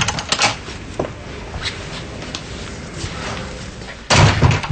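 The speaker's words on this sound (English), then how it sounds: "Open the door." A door in a domestic TV drama scene is handled with a few sharp knocks and clunks early on, then a loud slam near the end, close by and with no talk over it.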